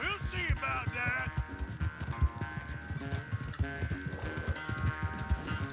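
Rhythmic clip-clop of a war horse's hooves in Red Dead Redemption 2, steady trotting beats under overlapping game dialogue and music.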